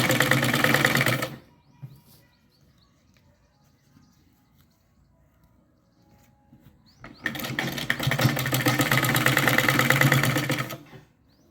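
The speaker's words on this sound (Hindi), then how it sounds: "इसको ऐसे सिलाई कर लें।" Sewing machine stitching the front panel of a blouse, two loud sustained bursts of fast mechanical whirring and needle chatter, one at the start and a longer run later, separated by a quiet pause.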